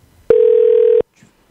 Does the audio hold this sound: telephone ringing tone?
yes